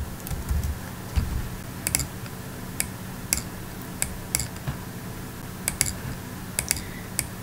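Keys on a computer keyboard tap in short irregular bursts, close and crisp over a quiet room hum, with gaps between clusters of keystrokes.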